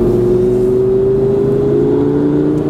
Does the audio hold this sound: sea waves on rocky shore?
no